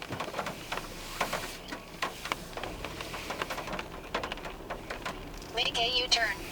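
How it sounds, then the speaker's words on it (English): Rain drumming on a tent during a storm while camping in Red River Gorge: a steady close patter of drops with sharper irregular hits, and a brief voice-like tone rising near the end. "It started raining."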